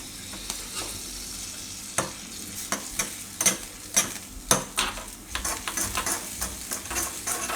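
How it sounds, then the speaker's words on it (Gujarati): Garlic sizzling in hot oil in a pan for cauliflower soup while a spoon stirs it, giving a steady close hiss broken by sharp scraping knocks that quicken toward the end, with no voices. "થોડીક વાર આમાં થવા દે હું લસણને."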